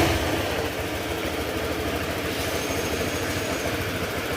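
A motorcycle engine idles steadily and evenly, with no misfire, in a repair shop; a close, constant low rumble runs through the whole stretch with no talk over it.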